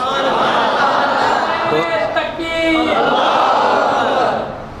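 A large religious gathering crowd chanting and shouting slogans in unison, loud and sustained, with rhythmic swells of many voices.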